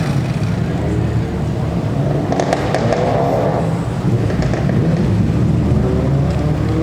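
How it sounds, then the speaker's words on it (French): A Corvette Spider roars past at the Zoute Grand Prix classic car event, a loud sustained engine note that swells and fades with crackling exhaust bursts, heard close and alone. "Ah ouais, sa Corvette."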